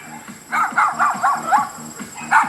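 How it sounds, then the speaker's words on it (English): Several dogs bark repeatedly at dusk in the rural Philippine countryside, a fairly steady run of overlapping barks at moderate distance with a brief pause before a final burst. "all we've got now is dogs gone insane, barking for no reason at all"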